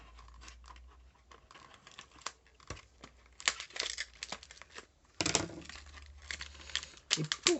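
Crinkling and tearing of packaging around tiny bottles comes up close, in irregular bursts of rustling with a louder rip near the end. A quiet voice speaks briefly.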